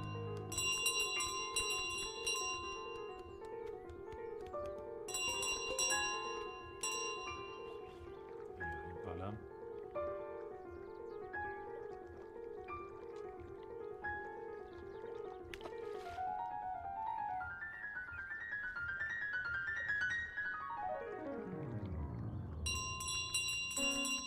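The goose's little bell in Untitled Goose Game jingles in short bright bursts, at the start, midway and again at the end, over soft melodic game music and light in-game sounds.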